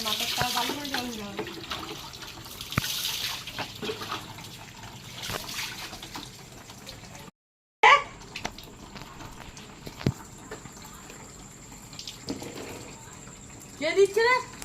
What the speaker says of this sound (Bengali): হ্যাঁ, মাথাটা ভালো করে জল দাও।